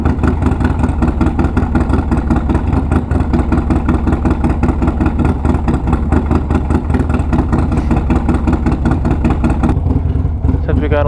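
A motorcycle engine idles close by while warming up, a loud, steady, rhythmic thumping that runs without a break.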